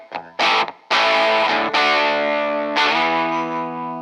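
A 1983 Gibson Futura electric guitar with a DiMarzio bridge pickup rings out loud and distorted through effects, a few struck chords sustaining and decaying one after another.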